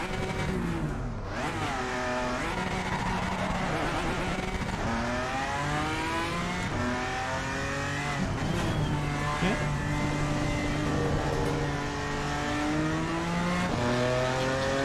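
GT4 race car engine in the Assetto Corsa Competizione racing game, revving steadily with rising and falling gear sweeps as it echoes off a trackside wall, loud and continuous with no voices.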